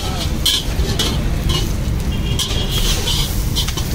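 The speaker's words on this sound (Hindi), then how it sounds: "स्टोव चालू कर दिया है तवा। ये अपना मंचूरियन राइस बनने जा रहा है, मंचूरियन डाल दिया है भैया ने।" Manchurian pieces frying in a pan on a stove, a steady close sizzle with stirring scrapes throughout, under a constant low rumble of background noise.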